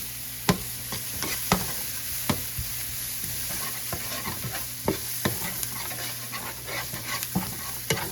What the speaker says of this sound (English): stir that around just for a few minutes.